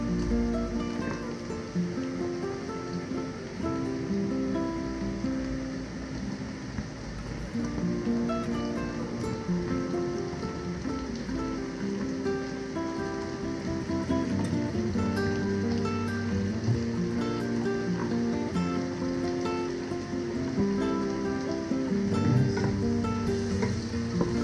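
Chicken liver sizzles loudly in a pan over cooked garlic, onion and ginger, a dense, steady frying hiss with faint stirring scrapes running throughout and no speech.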